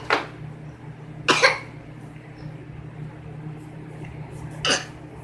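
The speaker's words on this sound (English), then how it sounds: "There you go with the pretend coughs." A one-year-old boy gives three short, breathy pretend coughs spaced apart, with quiet background hum between them.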